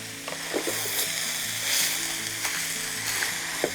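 Beef and cabbage stir-fry sizzles steadily in a hot pan, a dense close hiss broken by a few clicks and scrapes as it is stirred.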